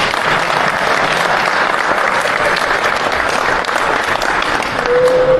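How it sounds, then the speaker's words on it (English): Sustained, loud applause fills the room for the Black Stars football team's gathering, a thick, even roar of many hands clapping without pause, with a faint tone rising briefly near the end. "And clap for me."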